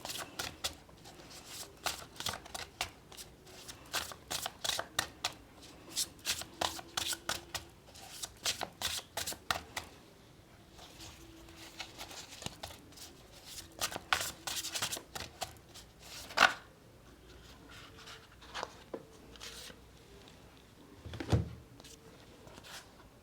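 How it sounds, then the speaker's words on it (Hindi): Tarot cards are shuffled and sorted up close, giving quick bursts of soft riffling and flicking with brief pauses, plus occasional rubs and taps, all fairly quiet. "सॉरी, कार्ड थोड़े से उल्टे पुल्टे हो गए हैं, मुझे थोड़ा साइज करना पड़ रहा है।"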